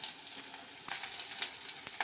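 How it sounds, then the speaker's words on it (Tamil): Mustard seeds splutter and pop in hot oil, a dense, fairly quiet crackle with scattered sharper pops throughout. No voices. "அப்புறம் கடுகு போட்டுட்டு நல்லா பொட்டி வரட்டும்."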